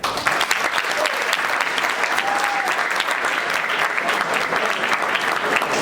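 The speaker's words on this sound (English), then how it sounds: "give a big round of applause to Amelia Pritt and Jaylee Strait" A big round of applause at a senior breakfast for two student volunteers, dense and steady clapping from a crowd that stays loud and continuous for several seconds.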